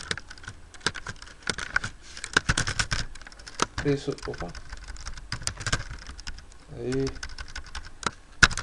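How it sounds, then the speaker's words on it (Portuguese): Keys clatter on a computer keyboard in a rapid, uneven stream of sharp clicks during programming work, with a person's voice briefly speaking over the typing. "eu tô com um problema sério com o meu teclado"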